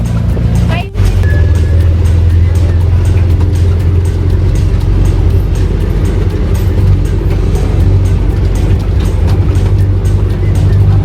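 Steady, loud engine rumble inside a running jeepney, a constant low drone lasting throughout after a brief jolt near the start, with rattling road noise and a person talking over it.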